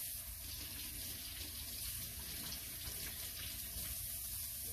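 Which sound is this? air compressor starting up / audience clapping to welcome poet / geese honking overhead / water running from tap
water running from tap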